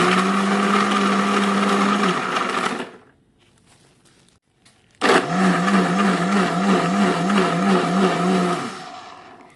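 A countertop blender whirs loudly, crushing ice with lemon juice into a frozen lemonade, running steadily for a couple of seconds, cutting out briefly, then roaring back on with a pulsing churn as the ice breaks down.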